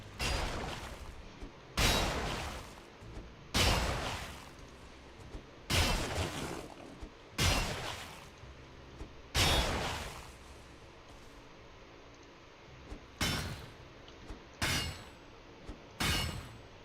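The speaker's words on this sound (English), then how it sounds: "sorry if you guys hear fireworks in the background." Fireworks go off outside a house, about ten sharp blasts at irregular intervals a second or two apart, each with a short rumbling tail, at moderate distance and with no talk.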